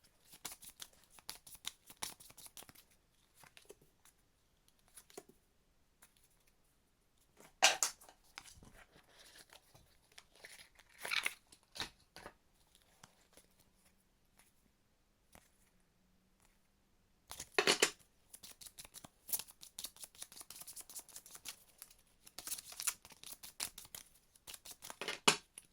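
Tarot cards shuffled and dealt on a table at sped-up pace, giving quiet bursts of rapid riffling and flicking that come in clusters with soft gaps between.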